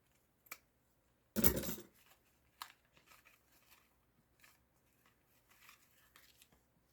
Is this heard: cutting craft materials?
yes